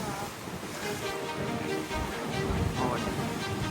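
A boat speeds across the sea off the Amalfi Coast near Positano, Italy, with a steady loud rush of wind, spray and engine noise running unbroken throughout.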